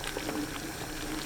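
A pot of ground sweet potato porridge boils on high heat, giving a steady, close, thick bubbling and popping with no voices.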